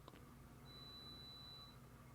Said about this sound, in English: there like a beeping sound? Do you hear that? Yeah, it's Dana's bread maker.